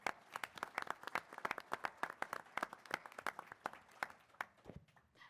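A breakfast-event audience applauds the sponsors, many hands clapping fast and crisp in a dense, even stream that thins slightly before the end, heard from a distance at low level without speech.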